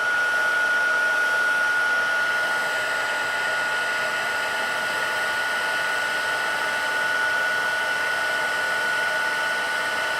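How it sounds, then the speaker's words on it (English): A heat tool blows continuously to set embossing powder, producing a loud, steady close-up whooshing hiss with a constant high whine that holds unchanged for the full ten seconds. "All right, heat tool. See if we can catch that turning on camera."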